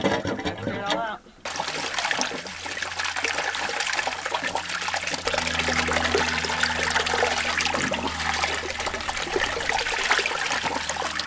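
Water from a line just cleared of hair gushes into a ranch's livestock water trough, a steady, close rushing and splashing that runs continuously after a brief pause near the start.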